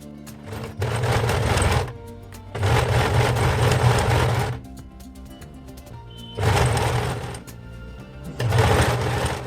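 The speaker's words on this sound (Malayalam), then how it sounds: "ഇതിൽ മാർക്ക് ചെയ്ത ഭാഗത്താണ് നമ്മൾ സ്റ്റിച്ച് ചെയ്തെടുക്കുന്നത്" Sewing machine stitching old saree fabric along a marked line, running in four bursts of steady whirring motor and needle clatter separated by short pauses, close and loud.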